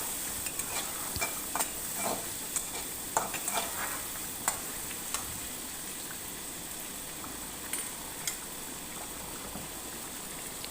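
A spoon stirs a pot of fish head curry (murighonto) after garam masala goes in, with steady wet scraping and churning over a soft simmering bubble, close and continuous without voices.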